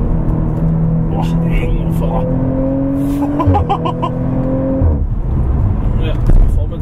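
Audi RS4 Avant B9 with 450 PS accelerating, a loud rising engine note from inside the car while people talk over it.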